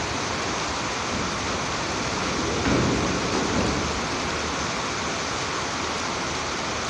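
Sea waves wash in as a steady, broad rushing roar, with one swell building a little louder midway before settling back into a continuous surf.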